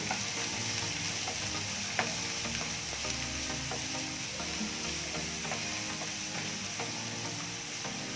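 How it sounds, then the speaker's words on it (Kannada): Curry leaves fry in hot oil alongside onion for vegetable masala rice, a continuous soft sizzle with occasional stirring clicks, close but moderately quiet and free of speech. "ಕರಿಬೇವಿನ ಸೊಪ್ಪು ಸ್ವಲ್ಪ ಫ್ರೈ ಮಾಡ್ಕೋಬೇಕು."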